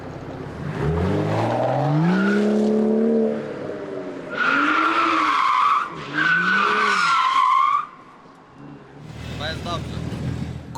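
Tires squeal and screech in long rising and falling bursts as a BMW's engine revs hard in a burnout, fairly close, with brief gaps between skids.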